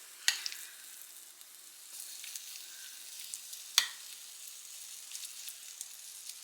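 Thick batter sizzles on a hot Dash mini waffle maker, a soft high hiss with sparse sharp crackles and two louder pops, close and quiet with no voices.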